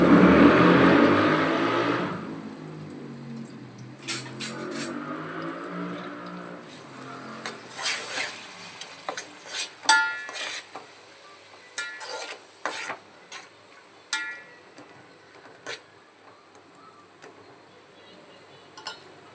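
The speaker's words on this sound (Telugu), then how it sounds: "ఇది ఫ్రై అవ్వాలండి, పచ్చివాసన అంతా పోవాలి." Onions and green chillies for chicken curry hit a hot pan with a loud hiss that fades into a soft sizzle, broken by repeated sharp clinks and scrapes of stirring.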